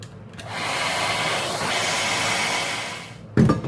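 A hair dryer blows steadily over a sample spot on chromatography paper, a near, broad whooshing hiss that runs for about three seconds before cutting off, with a brief louder knock at the end.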